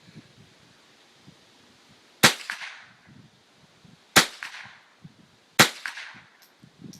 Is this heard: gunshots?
yes